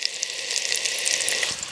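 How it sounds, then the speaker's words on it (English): Sliced onions sizzle in a hot frying pan while a pie filling is cooked, a steady close hiss of crackling fat with a few small pops and no talk. "adding the onions into the pan. Oh, lovely sizzle that, lovely."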